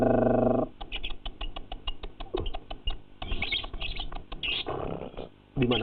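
A lovebird chirps in quick repeated bursts of high, sharp notes, close by, with brief louder tonal calls at the start and end.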